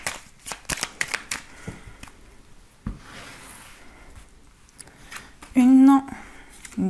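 Tarot cards shuffled and drawn, a burst of quick riffling flicks followed by scattered soft slides and taps, close and fairly quiet, with a voice briefly speaking near the end.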